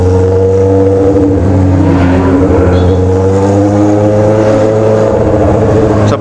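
A Honda Hornet motorcycle engine runs loud and close, its revs climbing in a steady rising drone throughout, with no talk over it.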